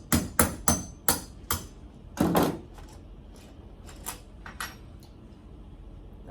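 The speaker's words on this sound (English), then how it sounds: "give it a couple taps with a hammer" Several sharp metallic hammer taps in quick succession drive a pin through an RX motorcycle chain to break it, then a scraping push and a few lighter clicks, close by with no talking.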